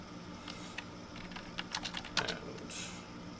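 Soft, close clicking of keys on a computer keyboard as a title is typed, irregular quick taps under a faint background hum, no talk.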